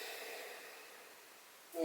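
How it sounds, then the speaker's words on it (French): A single slow, soft exhalation during a beginner yoga session while lying on the side in fetal pose, close and faint, fading gradually before a short louder rustle at the end. "Et une respiration."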